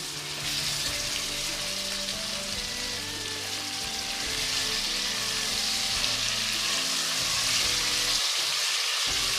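Chicken sizzles and fries in a pan with garlic and ginger, a steady, dense crackle that runs throughout. It is occasionally punctuated by stirring, and briefly quietens near the end.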